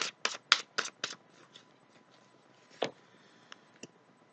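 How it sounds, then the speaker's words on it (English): Tarot cards shuffled by hand: a quick burst of five crisp riffling slaps up close, then quieter scattered flicks and two more sharp snaps after a pause. "Let's shuffle."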